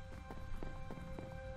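Horse hooves clip-clopping in Minecraft 1.11, a quick steady run of soft, evenly spaced hoof clops over a low background hum.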